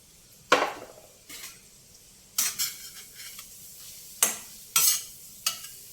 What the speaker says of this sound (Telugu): క్యారెట్ వేయించుకుందాం పచ్చి వాసన పోయేంత వరకు.